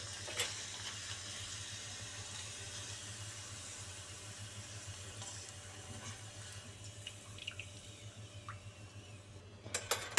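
A small piece of papad dropped into hot oil in a home kitchen gives a steady, quiet sizzling hiss, with a few sharper crackles and pops near the end.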